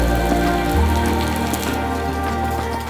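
Rainy-season rain falls in Mexico as a constant close patter on nearby surfaces, mixed with a faint low steady hum throughout.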